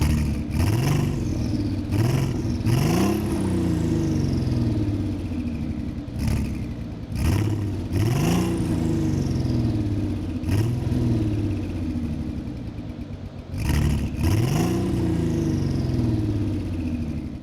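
A Volkswagen Golf GTI W12 650 with a W12 engine starts with the key and is revved in repeated sharp throttle blips that rise and fall, loud and close, with no one talking.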